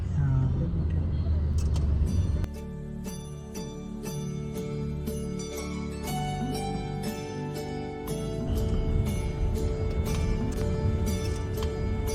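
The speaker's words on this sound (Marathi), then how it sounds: "मधून ट्रेन जाते आणि इकडून मोठी गाडी." A large vehicle passes on a busy road near the Ganges in Kolkata, its engine drone loud and close under a mix of traffic noise, horns and tonal jingles, with voices faintly present.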